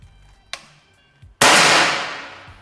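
A single sharp PCP air rifle shot cracks close by, followed by a long hissing decay, with a couple of faint clicks beforehand.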